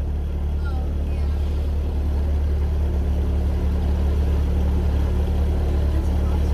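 A 2.3 EFI engine swapped into a Ford Pinto wagon revs very high, a loud steady low drone that holds throughout with no pauses.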